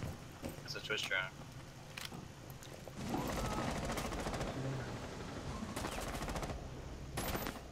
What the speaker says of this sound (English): They're trying to shoot me through here.